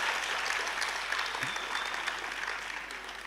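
An audience at a national poetry gathering held for Kargil Vijay Diwas claps steadily in a dense, continuous patter of applause that holds for a few seconds, then tapers slightly toward the end.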